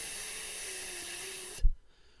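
A person imitates a lawn sprinkler's steady whispering spray with a long, even breathy hiss, close and moderately quiet, cutting off sharply after about a second and a half.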